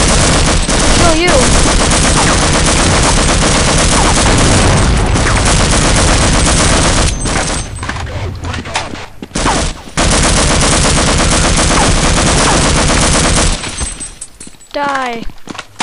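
Loud, dense gunfire from the video game Half-Life: Uplink, sustained bursts and rapid automatic fire with shattering impacts, broken by a couple of brief pauses, with a voice talking over the shooting.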